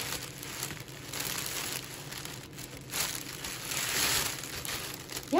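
Gift paper is gathered and crinkled by hand while wrapping a Dollar Tree Easter basket, a soft, continuous rustling and crumpling close by, swelling and fading over a few seconds with no talk.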